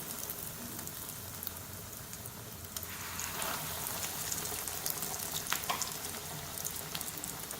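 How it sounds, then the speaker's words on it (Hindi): Veggie burger patties shallow frying in oil in a pan over a medium flame, a steady soft sizzle that swells louder and crackles more densely partway through, with no talking. "वेजी बर्गर पैटी फ्राई करना स्टार्ट करते हैं। शैलो फ्राई करेंगे"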